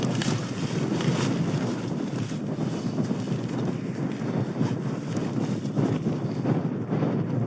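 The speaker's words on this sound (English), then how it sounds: "Ooh, that wind. It's bloody strong." Strong, cold wind gusting across a mountainside during solo camping, roaring and buffeting the microphone steadily throughout with no voices.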